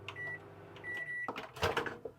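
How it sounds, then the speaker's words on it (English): A Russell Hobbs 800 watt microwave in a motorhome is switched on: short beeps as its buttons are pressed, a click, then the low hum of the oven running, close by. "which is a Russell Hobbs 800 watt microwave"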